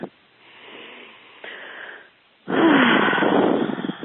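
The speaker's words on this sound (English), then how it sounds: "Take a deep breath." A slow, deep breath: a soft airy inhale, a short pause, then a longer, louder exhale, close and alone.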